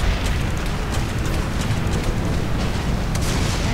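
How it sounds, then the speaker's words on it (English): Rocket launcher fire and explosions in the video game Serious Sam: BFE, a dense continuous rumble of booms and bursts running steadily throughout, loud and unbroken with no clear gaps between blasts. "but I'm shooting rockets and it's doing something"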